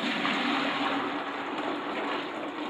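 Water pours steadily into a standard Igloo 2-gallon beverage cooler while brewing a Scotch ale, a continuous broadband gushing rush at close range with no talk.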